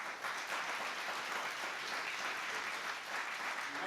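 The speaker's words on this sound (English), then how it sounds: "Let's give Brother Ed Davies a round of applause." An audience gives a round of applause at a morning gathering before a panel, many hands clapping in a full, sustained, even roar with no talk over it.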